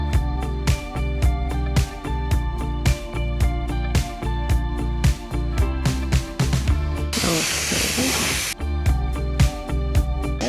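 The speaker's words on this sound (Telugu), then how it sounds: "తర్వాత కొంచెం సోయా సాస్ వేస్తున్నాను." Soy sauce splashes into a hot pan of spinach fried rice and sets off a sudden loud hiss that lasts about a second and a half, heard over rhythmic background music.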